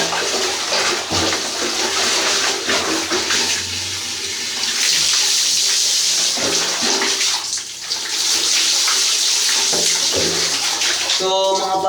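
Hot water runs into a bath basin, filling it with a steady broadband rush, loud and continuous, with clinks and a voice briefly speaking over it.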